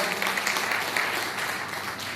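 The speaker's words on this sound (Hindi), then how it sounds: "मेरी प्यारी सी टीम के लिए जोरदार ताली बजाओ" Audience clapping for a team at a direct-selling wellness company event, a steady wash of applause with faint voices mixed in, continuing throughout at moderate level.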